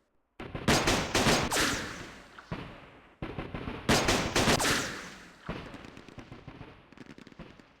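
Rapid gunfire volleys in the Vietnam War strategy game Campaign Series Vietnam, two loud dense bursts of crackling shots, each fading into scattered pops and rattling echoes.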